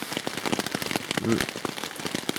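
Steady rain patters on a surface in the mountains in dense, continuous crackling drops while rainwater is collected, with a faint murmur of speech underneath.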